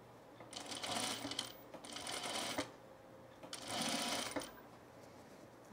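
A sewing machine runs a seam on a men's shirt in three quick bursts of close, rapid stitching separated by short pauses, with no voices.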